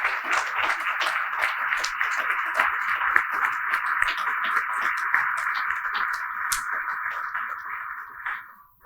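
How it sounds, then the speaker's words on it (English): Audience applause at a Grove City Chamber of Commerce dinner honoring past award recipients, a dense, steady round of clapping from a crowd that carries on for several seconds before tapering off. "please stand so that we can honor you with a collective round of applause"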